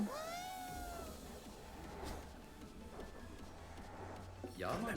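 A cat in Ghostwire: Tokyo gives a short rising meow at the start, then a second meow near the end, quiet against a low ambient game background.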